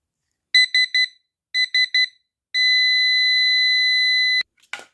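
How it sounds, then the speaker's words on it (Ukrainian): Electronic beeping from a circuit board of a PowMr unit under repair, in two bursts of three quick beeps, then a long continuous tone that cuts off abruptly, like an alarm clock. "Подивимось, що воно пищить. Так, по ідеї, має бути як будильничок."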